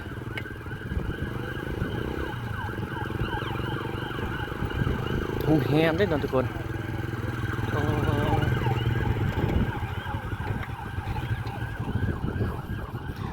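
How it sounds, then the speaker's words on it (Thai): A wailing rescue vehicle siren rises and falls in the distance over steady traffic rumble in Vientiane, Laos, near the Mekong riverfront, with someone speaking briefly. "โอ้ทางนั้นเสียงรถกู้ภัย"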